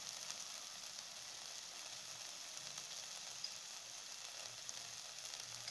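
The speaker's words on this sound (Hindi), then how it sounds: "फिर अच्छी तरह से मसाला को भून लीजिए" Spice masala of turmeric, Kashmiri chili, cumin and coriander powder frying in a pan for paneer magaj, giving a steady, dense sizzle that stays even and unbroken throughout, close but fairly quiet, with no talking.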